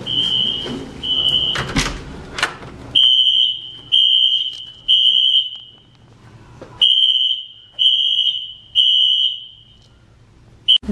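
Fire alarm sounding indoors during a fire drill: a loud, shrill electronic tone in repeated bursts of roughly a second with short gaps, plus a brief clatter and thumps near the start.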